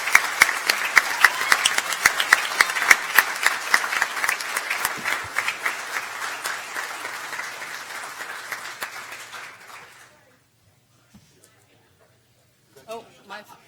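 Audience applause for students at a school board meeting: loud, dense clapping that slowly fades and stops after about ten seconds, followed by near silence and brief voices.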